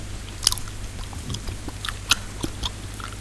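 Gum chewing close to the mic in ASMR style, with soft, wet mouth sounds and a few crisp clicks and snaps spaced unevenly over a low steady hum.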